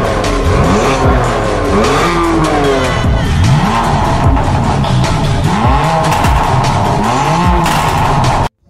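Car fitted with an Akrapovic exhaust whose muffler valves are opened by a remote sound kit, revving loud and close in repeated rising and falling bursts with tire squeal, continuous and without talk.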